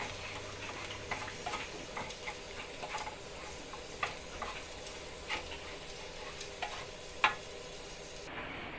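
Roasted coconut and spice powders stirred in a hot pan after the heat is switched off: quiet, steady scraping with light sizzle and scattered small ticks, close but faint.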